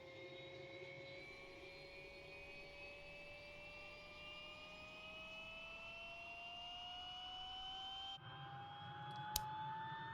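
An Alouette III SA-316B helicopter turbine spools up during engine start in Microsoft Flight Simulator, a steady whine that climbs gradually in pitch over ten seconds, then a click and a sharp tick as the starter stage ends.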